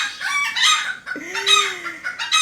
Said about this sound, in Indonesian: Ayam-ayam ini apakah sedang melakukan pernikahan ya?